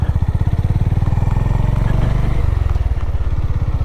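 A Honda GB350 roadster rides slowly, its single-cylinder engine thumping in a steady, loud, close rhythm with mechanical clatter throughout.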